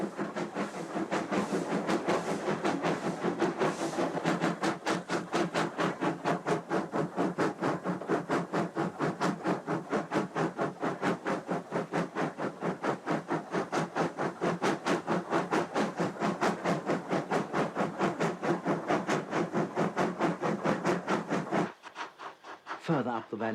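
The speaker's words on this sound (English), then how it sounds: "workers step aside at the sound of the approaching train" A steam train on the North Yorkshire Moors Railway works up a valley climb, with rapid steady rhythmic chuffing and clatter sustained for over twenty seconds before cutting off abruptly, moderately close.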